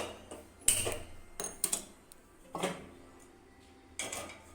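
A metal pan set down on a stovetop among several sharp clanks and knocks of cookware, spaced irregularly with short quiet gaps between, close by and with no talking.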